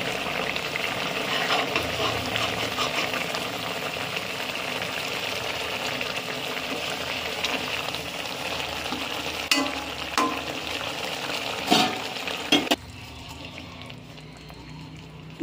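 Ghee hits a hot pan with a steady, moderate sizzle and frying hiss, broken by a few sharp clinks of utensils, before the sizzle suddenly drops to a quieter simmer near the end.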